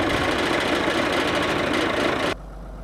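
Winch engine at the base of a forestry skyline yarder tower, idling loud and close with a rough, knocking mid-low rumble that cuts off abruptly near the end.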